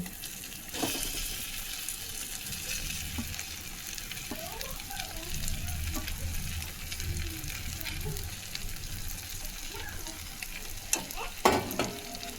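Steady sizzling of taro stolons stir-frying in a hot spiced pan, with occasional scraping stirs and clinks, continuing evenly throughout.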